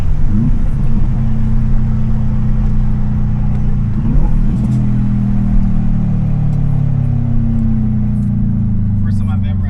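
A car launches and accelerates hard, its engine rumbling loud and close as the pitch climbs over several seconds, with people talking over it.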